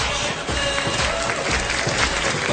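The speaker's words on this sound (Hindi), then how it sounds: "एक बार प्लीज जोरदार ताली में सब करण जौहर के लिए।" Crowd applause at the Filmfare awards show, a dense continuous wash of clapping from a large audience, loud and sustained across the whole stretch.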